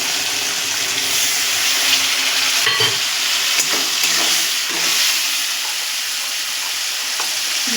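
Garlic, cumin, ginger and green chili paste frying in hot oil in a pan, a loud, continuous close sizzle with a few stirring scrapes, heard alone without speech.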